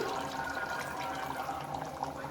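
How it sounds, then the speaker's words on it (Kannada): A glass of water is poured into rice while making veg pulao, producing a soft continuous splashing gush that lasts a couple of seconds, fairly quiet and without talk. "ನಾನು ಈ ಗ್ಲಾಸಲ್ಲೇ 1 ಗ್ಲಾಸ್ ನೀರನ್ನ ಇದಕ್ಕೆ ಆ್ಯಡ್ ಮಾಡ್ಕೋತಾ ಇದ್ದೀನಿ"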